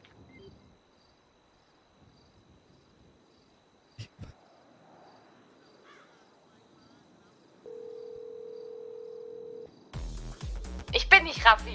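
A phone call dial tone in GTA 5 roleplay: a steady, flat electronic tone holds for about two seconds after quiet near-silence, then cuts off as a voice begins talking.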